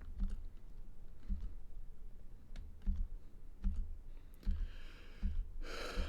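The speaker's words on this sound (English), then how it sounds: "the spam clicking almost put me to sleep" A computer mouse is clicked repeatedly while playing Minecraft, giving evenly spaced soft thuds and clicks, roughly one every half second to second, close and fairly quiet, with a brief noisy burst near the end; no talking.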